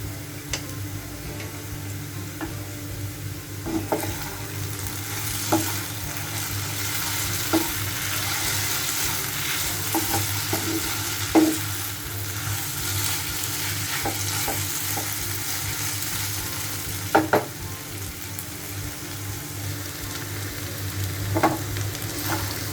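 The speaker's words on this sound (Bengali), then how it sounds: "আলু ভাজার সময় আপনারা ধীরে ধীরে ভালোভাবে মিক্স করে নেবেন" Potato pieces fry with cumin seeds in a pan, giving a steady low sizzle broken by periodic clinks and scrapes of a spoon stirring, fairly close and moderately quiet, with no talking.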